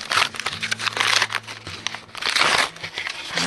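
Paper envelope ripped open by hand, close and loud, with crinkling and tearing noises in uneven bursts over a faint low hum.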